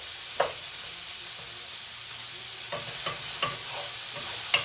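Green beans frying in butter in a dry, hot skillet give a steady soft sizzle, broken by a few light scrapes and clatters as they are stirred and tossed.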